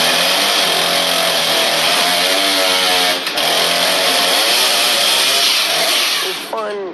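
A chainsaw runs loud and close on a film set, its engine revving and wavering in pitch throughout, with a brief dip before it winds up again at the end.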